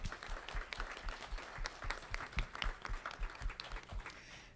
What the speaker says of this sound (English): Let's give motherhood a round of applause.